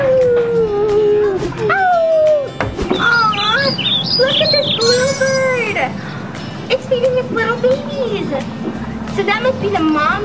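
At an indoor children's museum desert exhibit, a coyote howls at the moon in long rising and falling wails, loud and close, with bird chirps and some talk around it.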